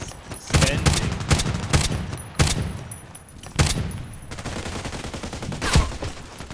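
Bursts of HK G36C rifle fire in the shooter game Contract Wars ring out as several rapid automatic volleys with short pauses, loud and close, with faint mechanical clatter between them.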